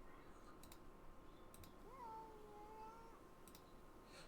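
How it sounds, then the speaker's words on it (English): In the Kentucky Route Zero video game, a cat gives a single faint, drawn-out meow midway through, soft against a quiet, hissing background with a few faint clicks. "Alert meow."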